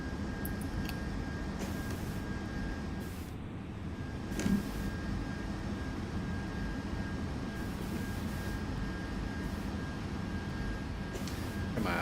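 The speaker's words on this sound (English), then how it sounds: "I finally made it off the ground" A video-game aircraft engine roars steadily through a takeoff, a continuous broadband drone with little variation, holding at a constant level throughout.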